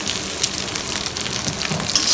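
An egg with a little salt fries in a pan for chapti noodles, making a loud, close, continuous sizzle with fine crackling throughout.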